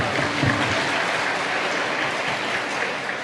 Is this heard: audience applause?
yes